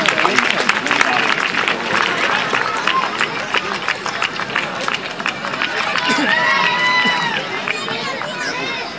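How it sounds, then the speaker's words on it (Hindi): Dense, steady applause from an audience at the Maa Saraswati Puraskar Samaroh 2007 award ceremony, greeting a school principal. Many hands clap continuously and fairly loudly, with crowd voices mixed underneath. "तालियों से स्वागत करें।"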